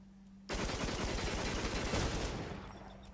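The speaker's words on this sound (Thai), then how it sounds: "ว่ามันจะยิงแรง 3 เท่าเนี่ยว่าจะกี่นัดครับ โล่ถึงจะแตกครับ" An AK-74M rifle fires a rapid automatic burst at a shield in a video game, a loud continuous rattle of shots lasting about two seconds before tapering off, with no voices.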